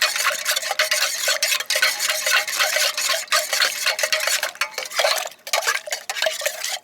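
A spoon scrapes and clinks steadily around a metal pot while stirring milk for bhang lassi, a close, continuous rhythmic rasp with brief pauses and no talking.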